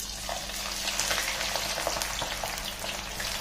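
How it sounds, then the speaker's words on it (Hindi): About one and a half kilos of finely sliced onions fry in hot oil, making a loud, dense, close sizzle with crackling that holds steady throughout, with no voices. "प्याज को फ्राई करेंगे।"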